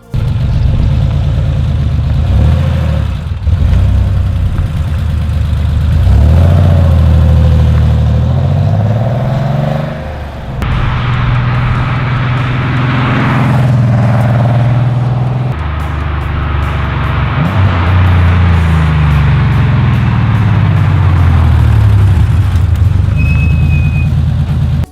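A Porsche turbocharged flat-six engine producing 376 horsepower in Need for Speed Porsche Unleashed, loud and close, repeatedly revving up through the gears with rising pitch sweeps and brief drops between shifts, continuous for the whole stretch without talk.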